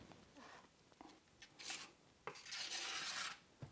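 A small scraper spreads tile adhesive onto a kitchen wall behind a stove for a glass tile backsplash, making soft close scraping and rasping strokes in irregular bursts, the longest one near the end.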